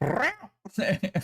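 A voice imitating a cat's meow used as a car engine sound in Rocket League, two drawn-out nasal mewing calls with a short pause between, close and loud.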